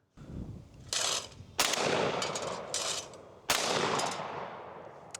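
Yamamoto Pointer Auto semi-automatic shotgun firing outdoors, four loud booming shots spaced about a second apart, each followed by a long rolling echo.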